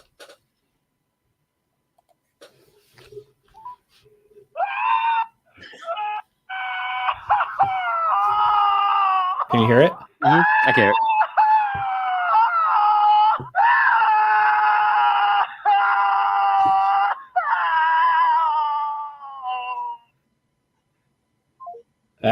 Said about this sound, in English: Yeah, it's just somebody screaming